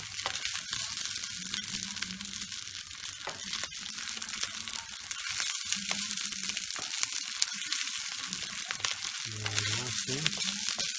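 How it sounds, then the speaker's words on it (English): Shallots sizzle gently in a pan while being stirred, a soft continuous frying crackle broken by scraping and rustling movements, close up, with faint speech in the background. "We normally put 3/4 of the shallots, mix them in without much heat."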